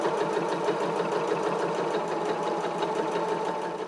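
Sewing machine running a quarter-inch seam on a fur scarf, a steady close motor hum with fast rhythmic needle clatter that continues without pause.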